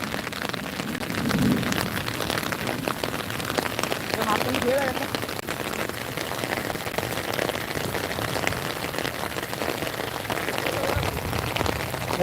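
Steady rain pours down over an outdoor football match played by children in wet weather, a dense even hiss throughout with voices faintly mixed in.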